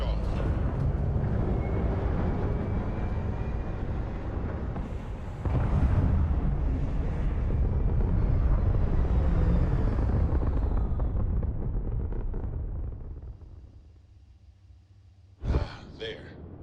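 In the video game Starfield, a spaceship lifts off and climbs into orbit with a loud, broad rumbling roar that swells, holds, then fades toward the end, followed by a short sharp burst.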